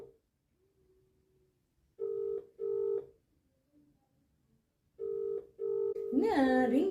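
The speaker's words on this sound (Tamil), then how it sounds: "என்ன ரிங் போயிட்டே இருக்க" Telephone call to a husband rings out unanswered: a repeated ringback tone in two-pulse bursts, two pairs spaced apart, fairly clear and close, with a brief voice speaking at the very end.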